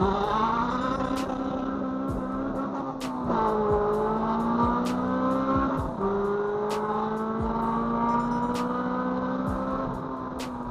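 Revving 2.0 car engine fitted with a bored throttle body and cold air intake, running up and down through repeated revs over a steady idle, loud and close with no talking.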